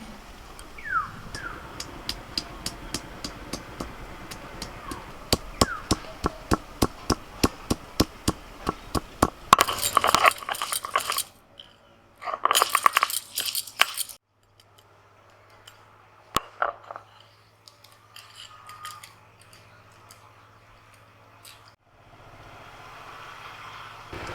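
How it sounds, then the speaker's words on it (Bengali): Ginger and garlic are ground into a paste by hand. A long run of sharp rhythmic taps gives way to two short, harsh grinding bursts, then quieter scraping. No one speaks. "আদা রসুন বেটে নেবো।"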